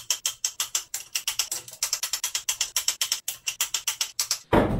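A ratchet wrench tightening crankshaft bearing bolts to 60 newton meters on a Land Rover Discovery TDV6 engine, a close, rapid run of sharp clicking strokes in steady bursts, ending in a brief rough scrape.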